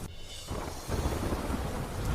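Heavy monsoon rain in Ranchi, Jharkhand pours down in a dense, continuous hiss, with a low thunder rumble swelling in under the downpour after a brief quieter moment at the start.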